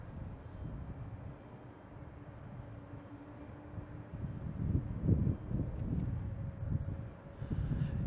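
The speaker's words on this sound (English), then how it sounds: "We got PAL Airlines taking off, heading back to Halifax." A PAL Airlines airliner takes off at Boston Logan airport, bound for Halifax; a distant, steady low engine roar with wind noise swells gradually louder over the clip.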